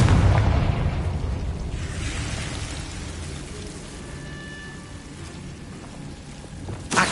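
Confringo explosive spell cast in the Hogwarts Legacy video game, a loud booming blast at the start that decays into a rumbling, crackling wash, with a second sharp burst near the end.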